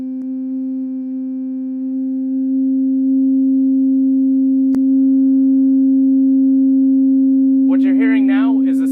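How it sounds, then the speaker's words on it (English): Steady pure tone of the second harmonic of a standing sound wave in a tube, a loud sustained hum that swells slightly, with a brief click midway and a voice starting at the end. "What you're hearing now is the second harmonic frequency."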